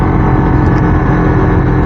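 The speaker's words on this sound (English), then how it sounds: "See if you can hear that engine pop" Yamaha MT-03 motorcycle engine pulling hard under acceleration, a loud, close, continuous rumbling drone with wind buffeting, steady throughout with no clear pops standing out.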